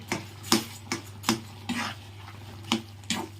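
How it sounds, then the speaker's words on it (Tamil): Mango pachadi with jaggery is stirred in a pan, a rhythmic series of sharp utensil scrapes and clinks about every half second, close and distinct, with no voices. "வெல்லம் கொட்டி விட்டுடுங்க. கொட்டிட்டு கலந்து இறக்க வேண்டியது தான்."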